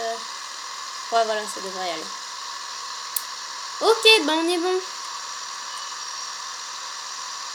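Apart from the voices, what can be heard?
vehicle engine hum in a video game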